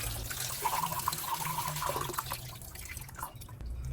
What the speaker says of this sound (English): And we are still rinsing.